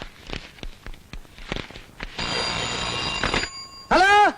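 A telephone bell rings in a Telugu film scene, a loud, steady burst lasting over a second followed by a shorter, sharper ring, with footstep-like knocks before it.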